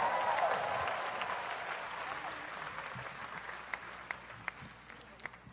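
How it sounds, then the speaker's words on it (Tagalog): Congregation applause at a religious healing service, a dense wash of clapping that starts full and gradually thins, with a few distinct louder claps near the end. "ibigay natin ang matunog na palakpak sa Panginoon."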